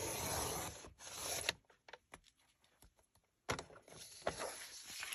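Scissors snip through a thin postcard page in a quiet room, with a rasping cut at the start, a few small scattered clicks and rustles, and then another rasping stretch of cutting near the end.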